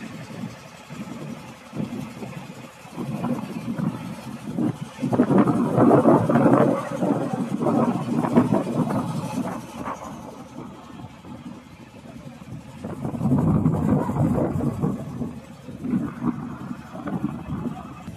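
Boat engine chugging on the Ganges near Mayapur, a mid-pitched motor drone that swells and fades in loudness, with faint voices mixed in.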